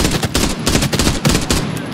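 Rapid rifle fire in the video game Arena Breakout: Infinite, a loud, close burst of about eight evenly spaced shots in quick succession, heard alone.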